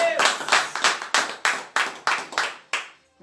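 Church congregation clapping in unison, about nine loud, sharp group claps in a steady rhythm over a few seconds, then stopping.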